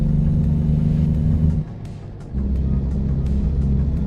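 Truck engine in American Truck Simulator, a loud steady low rumble that drops briefly to a quieter idle around the middle, then resumes at full strength.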